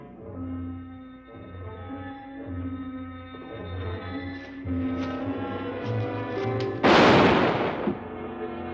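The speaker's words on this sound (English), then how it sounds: "These gunshots will bring the whole town in." A single loud gunshot cracks out near the end, ringing briefly over a steady orchestral music score that plays throughout.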